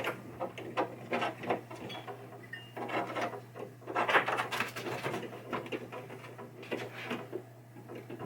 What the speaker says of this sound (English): So this will all be going together with hand tools. Hand screwdriver, old school.